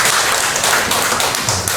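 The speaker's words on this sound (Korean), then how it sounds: "박수 한번 해주십시오." Loud, close clapping fills a church congregation at a thanksgiving service for a governor's inauguration, a dense, even patter of many hands that holds steady throughout with no talk over it.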